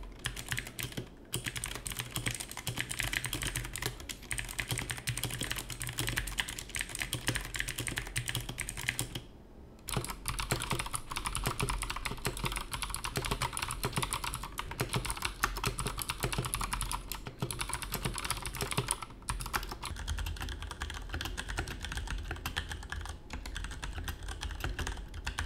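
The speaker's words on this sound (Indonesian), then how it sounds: "Dan silahkan menikmati tapping soundnya." Continuous clacky typing on an AJAZZ AK33 compact RGB mechanical keyboard with scratchy Zoro blue clicky switches, a dense close run of keystrokes with brief pauses, no talking.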